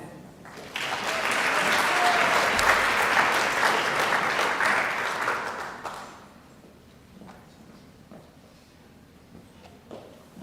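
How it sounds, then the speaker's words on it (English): An audience at a university bioengineering graduation celebration applauds the graduates, a full sustained burst of many hands clapping that rises quickly, holds for several seconds, then drops to sparse claps and soft murmuring. "let's give them a round of applause"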